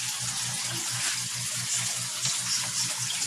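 Water flows steadily during a 50% water change in a backyard koi pond, a continuous hissing, splashing rush, close and even, over a faint low rhythmic pump hum.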